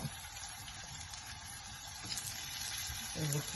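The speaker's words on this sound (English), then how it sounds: "I'm gonna start adding the shrimp in" Large shrimp frying in a hot pan as Jamaican pepper shrimp, a steady moderate sizzle that swells slightly toward the end, with faint speech in the background.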